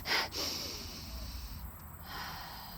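A person outdoors in a summer nature park takes quick, short nasal sniffs imitating a bear, a sharp opening sniff followed by steady breathy airflow, close and alone without speech.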